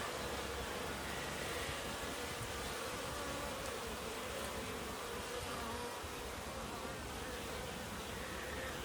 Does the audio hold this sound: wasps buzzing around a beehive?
yes